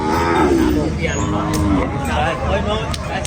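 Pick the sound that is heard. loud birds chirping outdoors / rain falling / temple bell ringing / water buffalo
water buffalo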